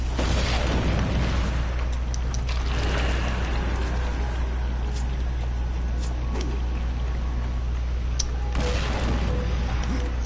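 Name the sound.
bomb explosion in video game Darksiders 2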